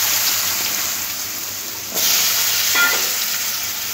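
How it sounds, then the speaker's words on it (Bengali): Diced potatoes fry in oil in a pan and get stirred, giving a steady sizzle with a few louder scraping stirs partway through. No one speaks. "আলুগুলো নাড়াচাড়া করে একটু লাল লাল করে ভেজে নিতে হবে।"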